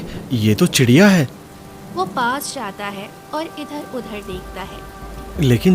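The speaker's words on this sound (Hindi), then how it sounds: "बारिश अब भी रुकने का नाम नहीं ले" Steady rain falls in a forest, a soft continuous patter running beneath a narrator's storytelling voice throughout.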